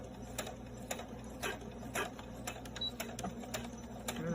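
Sewing machine back stitching elastic onto a washable medical mask, needle rattling in a steady rapid mechanical rhythm with regular louder pulses, close and continuous with no talk.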